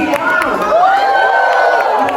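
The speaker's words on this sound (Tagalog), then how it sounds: "Sigaw ng tagumpay!" A church congregation erupts in a loud, sustained victory shout, many voices cheering and whooping together in a continuous roar.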